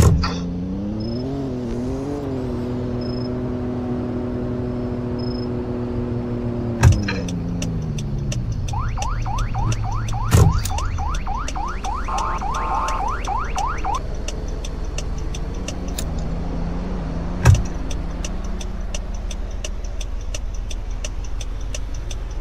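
Car driving in the Roblox game OGVRP, set in Greenville, Wisconsin: a steady engine tone that rises and shifts with the gears, with sharp clicks and a rapid ticking passage partway through, and no talking.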